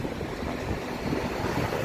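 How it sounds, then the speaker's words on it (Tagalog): Steady, roaring, cold outdoor wind in Greece buffeting the microphone, with a constant low rumble and broadband hiss and no pauses. "malakas pa yung hangin."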